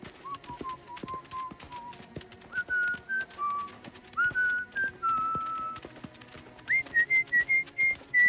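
Whistling in a French children's cartoon: a series of short melodic whistled phrases stepping up and down in pitch, alone over light tapping and clip-clop-like knocks, clear and close.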